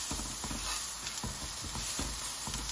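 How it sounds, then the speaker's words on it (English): Onions fry with turmeric and other spice powders being stirred in, giving a constant sizzle with soft rhythmic scraping strokes roughly every half second, close and without any voice. "Give them mix. Incorporate all those powders into the onions."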